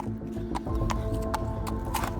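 A horse is walked down a hill near a wetland, and its hooves strike the ground in a slow, irregular clip-clop with a faint snort among the steps.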